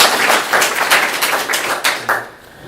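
Audience clapping at a lecture hall talk, a short burst of applause with distinct individual claps that tapers off into quiet near the end.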